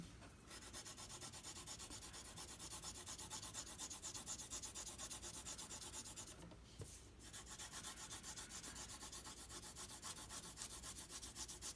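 Crayon or coloured pencil rubbing back and forth on paper in quick, even strokes, a close, continuous scratchy rasp with one short pause partway through.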